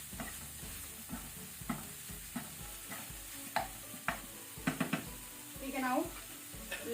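Squid tentacles and fins mixture being stirred in a pan, a soft frying hiss broken by repeated scraping and tapping strokes of a utensil, close by, with faint background voices.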